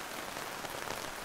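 Steady rain falling in May, a dense, even hiss of drops pattering on surfaces, continuous and fairly close throughout with no voices.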